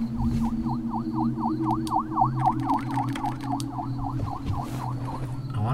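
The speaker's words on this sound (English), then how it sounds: "I'm guessing that the police sirens are not a part of, like, the room at all." Police sirens inside the video game FNAF 4 wail in a steady repeating up-and-down cycle, about fifteen sweeps over a few seconds, loud and continuous over a low droning background hum.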